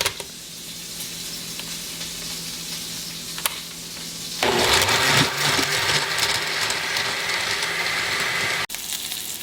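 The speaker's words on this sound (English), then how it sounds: "I just put this in a blender, and I'm gonna blend this" A low hum gives way to a loud, whirring blender blending butter chicken sauce that runs steadily for several seconds, then cuts off abruptly.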